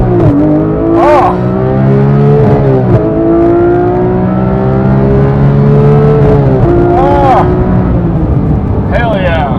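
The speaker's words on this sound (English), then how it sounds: "We're gonna try the flat foot shift, see what happens." Porsche GT3 Touring revving hard through the gears with a flat-foot shift, its engine climbing in pitch, dropping sharply at each shift and climbing again, loud and close throughout with brief exclamations over it.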